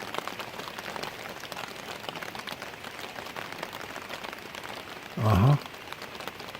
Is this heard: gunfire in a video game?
no